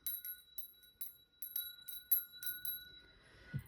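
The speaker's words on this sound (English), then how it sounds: "I'll begin with the ringing of the bell." A ritual bell rings out ahead of a tarot card reading, several clear metallic strikes with long sustained tones and a steady repeating rhythm, fairly close and on its own with no talk.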